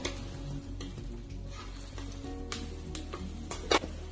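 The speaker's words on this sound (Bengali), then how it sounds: "গোটা জিরে দিয়ে দিলাম" Whole cumin seeds in hot oil crackle softly and steadily, with a few sharper pops near the end, quiet and close.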